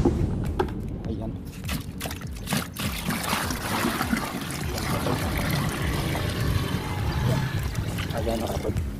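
Rinse water poured out from a container in a water-saving household routine, a steady splashing trickle running throughout with a person talking over it.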